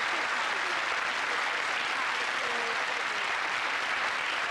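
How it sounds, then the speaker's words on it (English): A television game show studio audience gives a steady round of applause for a contestant, with even, continuous clapping at moderate volume throughout. "Come on, give him a round of applause for that"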